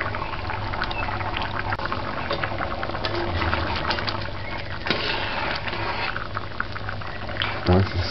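A pot of salt codfish stew peas bubbles at a steady simmer, a constant close boiling burble with a brief clatter near the end.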